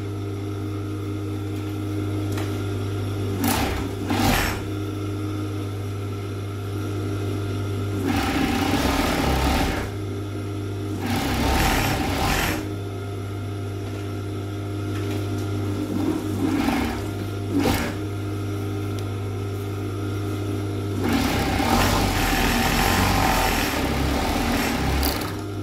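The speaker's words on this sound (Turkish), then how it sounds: "tam bacak arasına gelen kısma tekrar düz makineyle dikiş geçmek olacak" A straight-stitch sewing machine stitches the crotch seam of a child's tracksuit, its steady motor hum running throughout and rising into several short bursts of faster, louder stitching with pauses between them.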